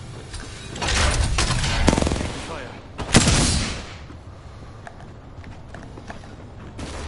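Apex Legends gunfire: two bursts of rapid shots, one around the first two seconds and a sharper volley a little later, fairly close and loud over a steady game-ambience background, with scattered fainter shots afterward.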